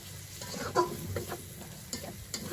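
Ginger paste fries in a pan with a quiet, continuous sizzle, broken by a few soft scraping and clinking stirs.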